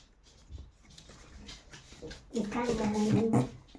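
A dog whines in a high, wavering tone for about a second near the end, loud and close, after quieter household noise and some talk earlier.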